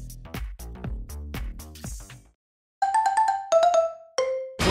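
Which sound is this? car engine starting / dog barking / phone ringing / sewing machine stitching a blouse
phone ringing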